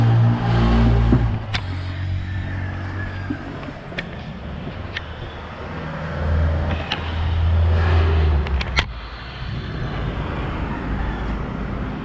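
A heavily loaded vehicle drives along a road, its engine droning low and steady under loud wind and road rumble, with a few sharp knocks and clicks from the cabin.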